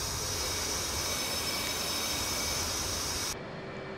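F/A-18C Hornet jet engine in the DCS flight simulator, a steady loud broadband roar with a high whine that holds evenly, then drops abruptly to a quieter hiss near the end.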